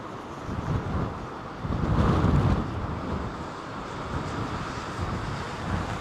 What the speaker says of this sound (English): Another 767 with United rolls out of their maintenance facility here at London Heathrow